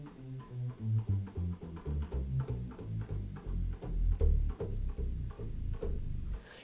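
A low synth bass breakdown patch from the Logic ES2 synth in a trance production plays a rhythmic run of deep pulsing notes, moderately quiet and steady, with no other instruments prominent.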